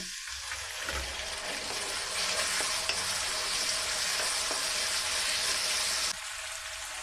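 Chopped tomato tips into onions frying in oil in a pan, and a steady loud sizzle fills the whole stretch with faint stirring scrapes and no talk.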